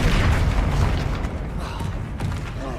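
A Bombarda spell explosion in Hogwarts Legacy, a deep booming blast with rumbling low-end debris, loud and close, fading into clattering mechanical noise.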